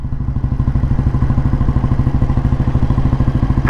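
A 1957 G2 vintage Bullet motorcycle running under a rider, its single-cylinder thump beating loud, steady and close throughout, with a faint clatter at the very end.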